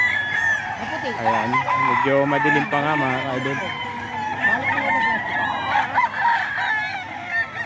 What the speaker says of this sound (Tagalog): napakaraming manok na naman dito sa Bukawi.